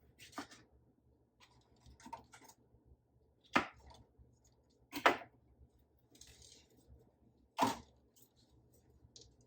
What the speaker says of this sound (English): now I'm just cutting off the tops, and then I'm just going to chop them up